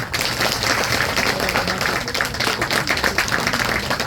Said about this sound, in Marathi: करता जोरदार टाळ्या